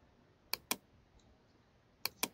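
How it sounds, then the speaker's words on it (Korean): Two quick pairs of sharp mouse clicks, close and crisp, separated by a short quiet pause. "자에 마우스 클릭하고"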